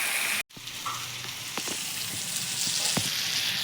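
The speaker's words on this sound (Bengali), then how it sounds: "দিয়ে আমি আরেকটু ভাজা ভাজা করে নেবো" Vegetables and three green chillies sizzle and fry in a pan for a Bengali vegetarian labra curry, a steady close hiss with a brief dropout near the start and occasional stirring clicks, no talk.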